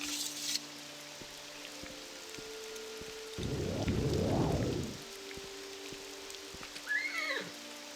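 Steady rain patters throughout in the video game Skyrim, with a rising, swelling whoosh in the middle and a brief high whinny from a horse near the end.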